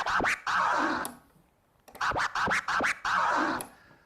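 Baby scratches on a DJ turntable, with the crossfader switching the sound on and off: quick back-and-forth scratch strokes come in short, clear bursts, separated by a brief silent gap.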